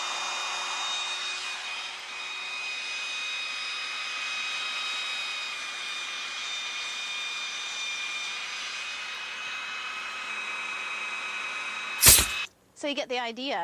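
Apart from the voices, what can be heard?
belt sander shaping a wooden chair rung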